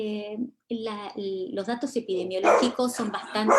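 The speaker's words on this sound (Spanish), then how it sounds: "disculpen el perro" A dog barks repeatedly in a home while a person keeps talking, the barks mixed in with the speech.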